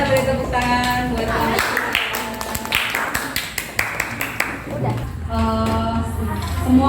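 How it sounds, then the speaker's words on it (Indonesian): Audience applause after a classroom presentation, a run of scattered claps rising and tapering over a few seconds, with voices talking at the start and end. "kita beri tepuk tangan buat"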